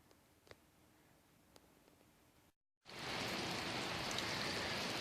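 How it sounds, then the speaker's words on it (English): Steady rain falls on a mobile home renovation site after a short silence, a dense, loud, continuous hiss of drops filling the second half, with faint patter before it. "Well, folks, I got rained out again,"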